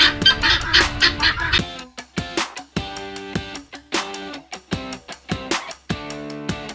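Ducks quack near their straw nest, first a dense, overlapping chorus, then a run of separate, repeated nasal quacks in quick bursts, close and clear.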